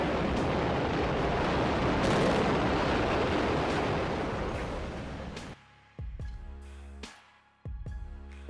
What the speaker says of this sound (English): A sudden roadside explosion brought traffic to an immediate halt as smoke and debris spread across the